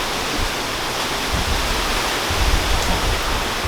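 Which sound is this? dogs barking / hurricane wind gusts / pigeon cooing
hurricane wind gusts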